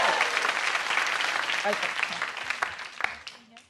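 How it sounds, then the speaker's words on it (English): Studio audience at a stand-up comedy show breaks into loud, sustained welcome applause for a guest, dense clapping filling the room before fading, with someone speaking briefly over it. "you've got to give a louder welcome applause"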